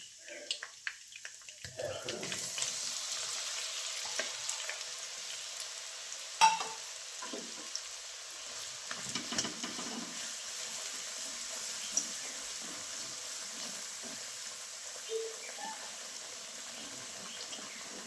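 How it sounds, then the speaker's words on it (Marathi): Mustard seeds and cumin sizzle in hot oil in a home kitchen while paneer curry is made, a steady faint crackling hiss with occasional pops and a louder clatter around the middle. "तेल ठेवले गरम व्हायला त्याच्यामध्ये आता मोहर टाकते जिरे"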